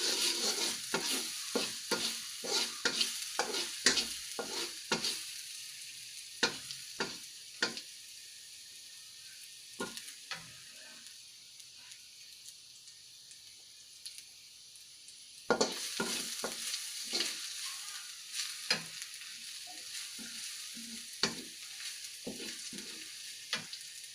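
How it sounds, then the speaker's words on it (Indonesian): Ingredients fry in a pan while being stirred, a quiet steady sizzle broken by rapid clusters of sharp spatula scrapes and taps, then a pause before the stirring resumes with louder frying. "Kita masak hingga harum."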